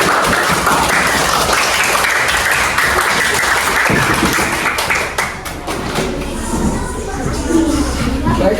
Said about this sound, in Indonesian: Ayo beri tepuk tangan untuk diri kita sendiri